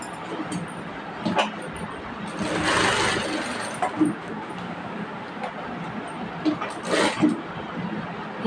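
A sewing machine stitches the front and back pieces of a princess-cut blouse together, running in short bursts of whirring with brief pauses between them.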